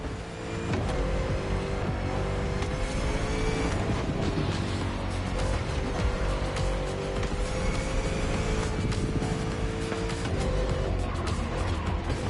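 A muscle car engine in The Crew Motorfest roars loud and continuous, revving with tire squeal and skidding layered over a thumping music track throughout.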